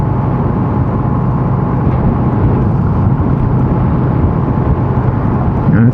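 Yamaha XV250 motorcycle cruising at 50 km/h in fourth gear after a 17/40 gearing swap, a steady low engine drone with exhaust rumble under heavy wind buffeting, no talk.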